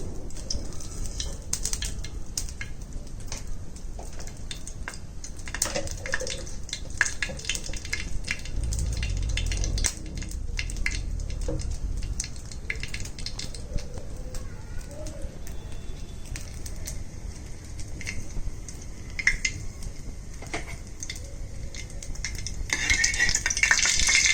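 Mustard seeds fry in hot oil in a pan with a steady crackling sizzle and scattered pops and stirring scrapes, while a dove coos in the background.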